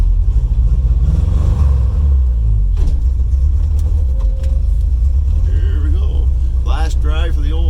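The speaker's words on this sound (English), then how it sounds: "Last drive for the old Thunderbird so far that I know." A 1965 Ford Thunderbird parts car driving with a steady, loud low engine rumble throughout, a few clunks midway, and faint squeaky sounds near the end.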